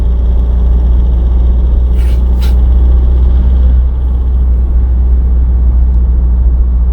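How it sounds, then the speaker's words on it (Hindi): Car cruising at 100 km/h on a highway between Riga and Warsaw, with a loud, constant low road and engine rumble, a couple of brief hissy swooshes early on, and no talking. "इसलिए गाड़ी 100 की स्पीड में दौड़ रही है।"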